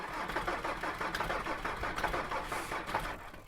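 Mercedes 2.7 CDI recovery truck engine cranking over and struggling to start, a steady rapid chugging rhythm throughout, fairly close with no talk.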